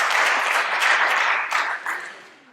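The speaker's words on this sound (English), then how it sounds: "You want to clap for that." Audience applause at a health talk, a close, full burst of many hands clapping that holds steady, then tapers off quickly toward silence at the end.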